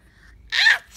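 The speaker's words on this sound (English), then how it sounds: "Are you pretending to sneeze?" A child pretends to sneeze, a single short, breathy burst at close range after a moment of near silence.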